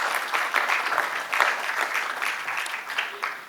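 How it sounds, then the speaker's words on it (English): An audience at an international arbitration conference claps as an African trustee comes forward, producing a moderate, uneven patter of hands that rises and dips slightly and stays fairly distant throughout. "please come forward as we clap for you"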